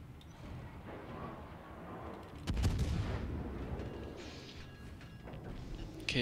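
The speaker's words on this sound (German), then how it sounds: "Okay, von wem sind die Schüsse?" Naval gunfire booms in World of Warships, a heavy salvo crashing in midway with rumbling low-end echo, followed by quieter mechanical and shell sounds; a voice speaks faintly in the background.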